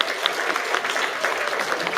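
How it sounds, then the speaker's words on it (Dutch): An audience claps at the close of a party with music and DJs, giving a short, even burst of crowd applause at moderate distance with no speech over it. "applaus voor iedereen"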